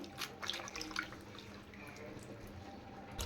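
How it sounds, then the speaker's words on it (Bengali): Pumpkin leaves are rinsed in water in a kitchen, with soft splashing and dripping as the leaves are swished and handled, fairly quiet and close. "পাতাগুলো একটু ভালো করে ধুয়ে নিই প্রথমে"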